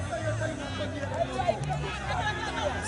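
Crowd at a St. Kitts Nevis cup football final, a steady murmur of many voices and cheers in an outdoor stadium, with a commentator talking over it.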